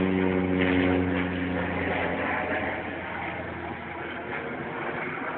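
An airplane passes overhead near a marshy nature trail with covered walkways, a loud droning engine hum with steady tonal harmonics that fades slightly as it moves away, with no talk.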